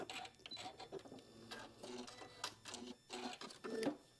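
A sewing machine stitches a butterfly-shaped oven mitt in short whirring runs broken by brief pauses, quiet and close, with no talking.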